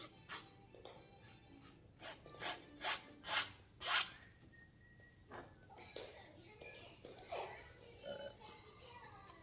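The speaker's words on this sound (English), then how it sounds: "Scrape all this excess paint." A palette knife scrapes excess paint off a canvas in a row of short raspy strokes that come in quick rhythm and build in loudness. Faint quieter scrapes follow, with soft background chatter underneath.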